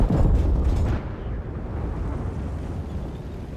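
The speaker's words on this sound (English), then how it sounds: "Damage his ammo rack with that first shot while tracking him." A heavy boom opens the clip as a tank shell strikes an enemy tank's ammo rack in World of Tanks, then a dense rumbling roar that slowly fades and carries on as a long, loud tail.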